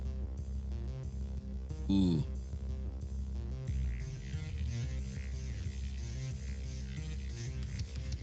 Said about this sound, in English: The boss theme sounds like this.